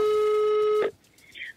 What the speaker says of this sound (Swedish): Så till slut så ringer vi hans receptionist.